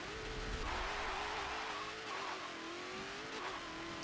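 A 2018 Dodge Demon F&F Edition drag build with supercharger accelerates in Forza Motorsport 7, a strained engine note rising and shifting in pitch over several seconds at moderate volume, with no talk.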